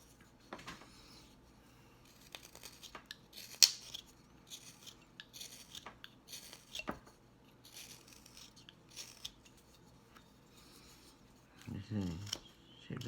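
Knife cutting and shaving wood while carving a small wooden cowboy hat for a bolo tie: scattered scraping and snicking strokes, quiet and close, with a louder rough scrape near the end and someone talking between cuts.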